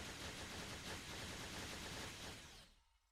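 Phaser beams fire in a space combat video game as a dense, loud, continuous crackling barrage that holds steady for over two seconds, then abruptly cuts off into near silence.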